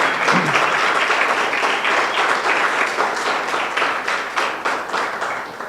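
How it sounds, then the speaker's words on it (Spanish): A church congregation claps loudly and steadily for several seconds during worship, a dense wash of applause that slowly thins toward the end. "Dale un aplauso al Señor"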